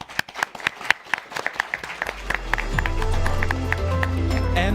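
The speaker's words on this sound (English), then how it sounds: "a big round of applause for everybody" An audience at a Young Physician Leaders panel session claps in a burst of applause, with sharp individual claps at first that thicken into a dense, sustained wash as more hands join in.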